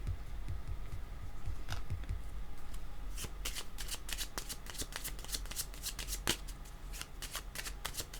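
Tarot cards being shuffled by hand, a soft steady rustle that gives way to a run of crisp, quick card flicks and riffles, close and clear with no talk over it.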